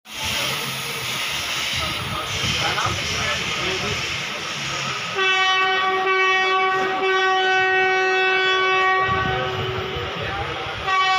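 A train at a railway station hisses and rumbles under a crowd murmur, then a loud sustained horn-like tone holds steady for several seconds.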